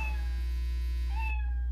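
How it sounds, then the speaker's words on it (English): A cat-meow ringtone plays as one clear, drawn-out electronic meow with a rising then falling pitch, alone and fairly loud, cutting off abruptly near the end. "I went and changed your ringtone to a cat meowing."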